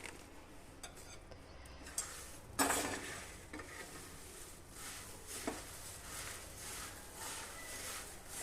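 Puri snack being stirred in a small kadai, with scattered scraping and clinking of a utensil against the pan and one louder clatter, fairly faint over a steady background hiss.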